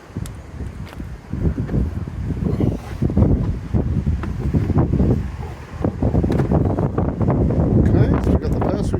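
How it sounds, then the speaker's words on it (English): Gusty wind buffets the microphone in a steady low roar, rising and falling throughout, with no clear speech. "It's very windy."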